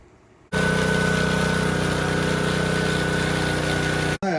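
Pressure washer engine driving a GM 1-wire alternator, starting abruptly into a loud, steady buzzing drone that runs evenly for several seconds before cutting off.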